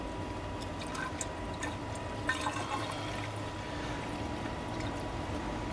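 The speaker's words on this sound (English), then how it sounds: "It's draining right out." Water draining steadily out of the heater core of a 2001 GMC truck during a cleanout, a continuous trickling, gurgling flow with faint drips and splashes over low background noise.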